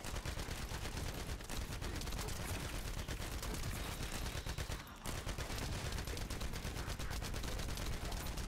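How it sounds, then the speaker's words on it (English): Sustained rapid gunfire in The First Descendant, the sci-fi shooter video game, with loud automatic shots hammering almost without pause for several seconds and one brief gap midway. "I'm shooting him"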